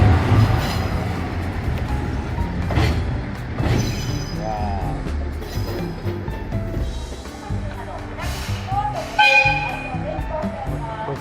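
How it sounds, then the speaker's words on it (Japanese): A railway car runs loudly at the Tenryu-Futamata station turntable, rumbling and clanking with occasional squeals from the wheels, while people talk over the noise nearby. "あ、これは見せるための電車だ。"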